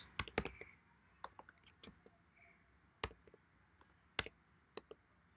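Keystrokes on a computer keyboard while entering a path in a terminal, sparse quiet clicks with irregular gaps and short bursts of two or three taps, close and alone.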